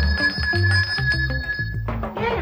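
A bell rings in a rapid, continuous metallic trill for a couple of seconds, loud and close, with no talking over it.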